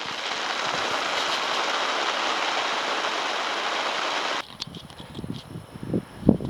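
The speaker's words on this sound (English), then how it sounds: "It's raining again." Rain falling outdoors on the open Arctic barren lands: a dense, steady hiss of drops that cuts off abruptly partway through, leaving quieter scattered patters and rustling.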